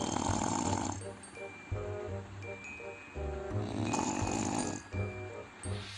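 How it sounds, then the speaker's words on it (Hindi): Loud, rhythmic snoring from a man asleep on a chair in a classroom repeats in long drawn-out breaths, close by, with some faint background voices and noise. "दिन में क्लासरूम में ठाठ से चेयर पर बैठकर खर्राटे खींच रहे"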